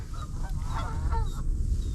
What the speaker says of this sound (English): these birds are gonna start yakking at us